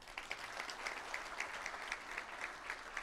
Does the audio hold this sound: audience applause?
yes